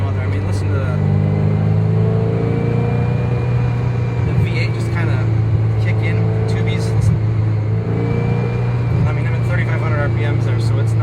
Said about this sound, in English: listen to the V8 just kind of kick in